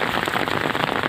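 Steady rain falls in a village, a dense, continuous patter close by with no pauses and no voices.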